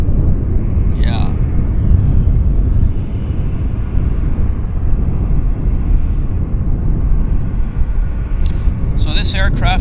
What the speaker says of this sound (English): So this aircraft is flight 1059 inbound from Las Vegas